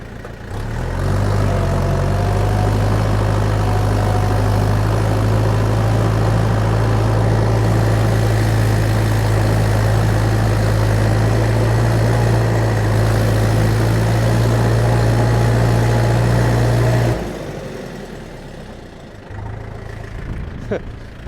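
Heavy DT-54 tractor engine ploughing in second gear with a two-furrow plough, running at a steady low rumble for a long stretch, loud and close, then dropping off near the end.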